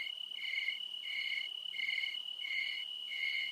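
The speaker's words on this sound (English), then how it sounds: "And literal crickets after everything we say." Crickets chirp in steady, evenly spaced pulses as an inserted comedic sound effect during a podcast, a clean continuous trill with no talking over it.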